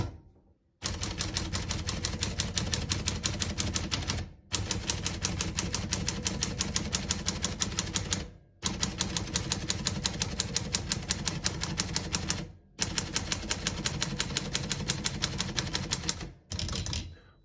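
Rapid, even clacking of keys on a 1938 Corona Standard portable typewriter in long bursts separated by short pauses, close and crisp, with no talking.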